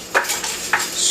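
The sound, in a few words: whisking coconut limber mixture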